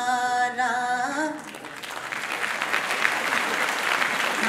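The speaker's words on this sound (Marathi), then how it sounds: "ह्या टाळ्या साध्या गाण्याला आहेत" Audience applause breaks out after a sung Marathi song line: a held sung note gives way to dense, sustained clapping from a large crowd that carries on evenly to the end.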